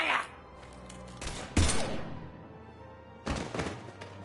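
Bursts of gunfire in the video game Mass Effect 3, a few sharp volleys at moderate distance separated by quieter stretches, with a low rumble of game ambience and faint voice activity in the background.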